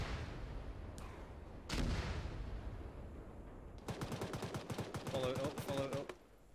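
A rocket launcher fires in ARMA 3, giving a couple of sharp blasts early on, then a rapid run of bursts that sounds like automatic fire, all distant and moderately loud, with no speech.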